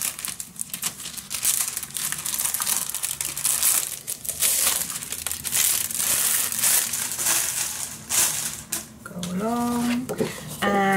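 Crinkly design paper being unpacked for a scrapbook mini album, a steady run of close crackling and rustling with a brief burst of voice near the end.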